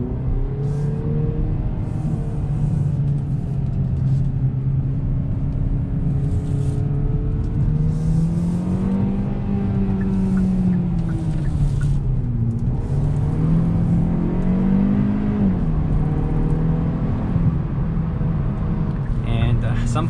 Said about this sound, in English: You could hear more of the pops and crackle noises when you are parked, but when driving you really don't hear them that much.